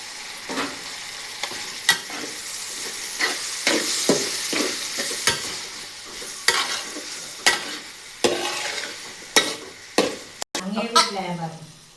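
Tomatoes frying in a pan for chicken biryani, with a steady sizzle broken by repeated sharp scrapes and clacks of a spoon stirring, fairly close, ending in a brief whooshing burst.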